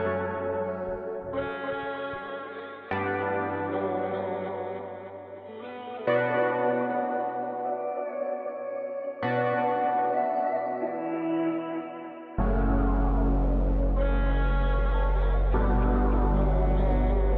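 Dark music samples, pitched low and run through an effects rack, play as layered echoing, chorused tones that change every few seconds. A heavy low bass enters for the final stretch, loud and without voices.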